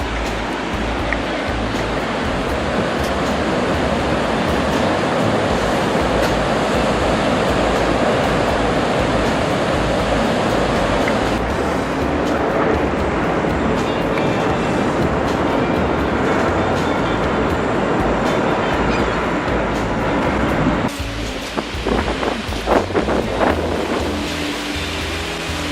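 Niagara Falls thundering nearby as a huge waterfall, giving a loud, unbroken broadband roar of crashing water that fills the whole stretch, with a brief change in texture near the end.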